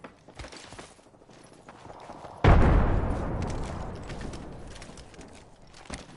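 A frag grenade detonates in a video game: a sudden heavy blast midway through, decaying in a long rumbling tail over scattered background clatter and small pops.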